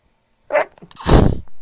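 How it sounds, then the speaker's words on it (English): A single forceful human sneeze bursts out close to the microphone after a short quick intake of breath, loud and abrupt, with no talk during it. "I have to sneeze."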